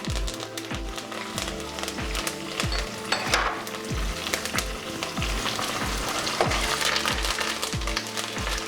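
Mustard seeds, dried red chilies and curry leaves sizzle and crackle steadily in hot oil, with a regular series of low knocks from stirring beneath the frying.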